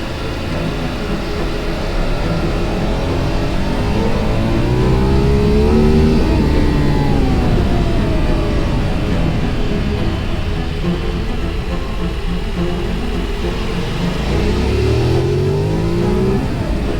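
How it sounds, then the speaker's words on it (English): A Ducati motorcycle engine revs hard and accelerates on an open road ride through the Val Trebbia, a loud, steady roar with rising and falling pitch sweeps as it climbs through gears, continuous with no talk. "Wonder here has to squeeze every horsepower out of his Ducati in order to recover."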